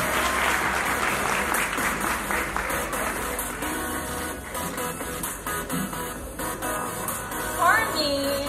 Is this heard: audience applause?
yes